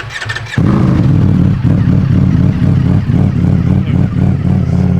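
A 2026 Kawasaki ZX-10 sport bike engine fires up after a brief starter whir, then settles into a loud, close, deep idle with repeated revving blips.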